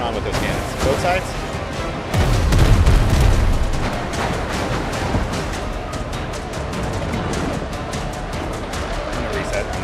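Deep cannon booms from a ship in a video game, with a heavy blast around the middle and scattered lighter shots and crackles before and after, under a steady busy game din.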